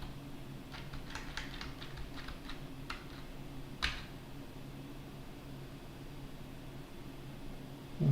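Typing on a computer keyboard, a quick cluster of light key clicks followed by a single louder keystroke, then quiet room tone.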